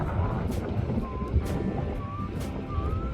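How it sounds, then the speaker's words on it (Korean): Strong wind at the broad Yeongsan River estuary buffets the microphone in a loud, continuous roar with gusty swells throughout. "바람이 상당히 많이 불고요"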